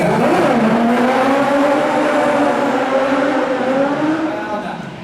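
Stunt cars in the Lights, Motors, Action show at Hollywood Studios roar and rev loudly, their engine tones swooping up and down as they race and turn, then fading slightly at the end.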